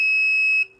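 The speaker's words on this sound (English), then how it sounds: "But I don't want this alarm going off for long" A fire alarm system sounds during a test, giving a loud, steady high-pitched tone that holds evenly and then cuts off abruptly near the end, with no voices.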